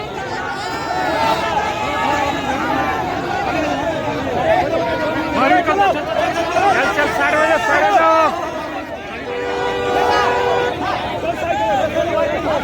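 Dense crowd chatter and shouting surround a nomination procession vehicle carrying candidate Jairam Mahto, a constant loud babble of many voices close by, with individual people calling out over it throughout.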